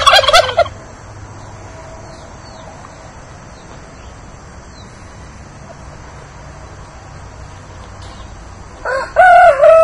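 A year-old breeding turkey tom in a backyard flock gobbles loudly and close twice, once at the start and once at the end, with quieter ambient noise and faint distant bird calls in between.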